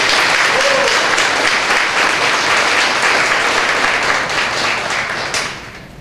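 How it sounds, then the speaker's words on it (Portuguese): Loud, sustained applause fills a city council chamber as a crowd claps together for several seconds before it tapers off near the end. "Peço uma salva de palmas para vocês, se permite, presidente, a todos que estão aqui."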